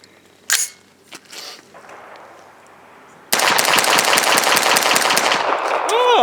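A CMMG Guard 45 fires 45 ACP full metal jacket rounds in a rapid, loud string of close shots after a quieter stretch with a few knocks and handling sounds.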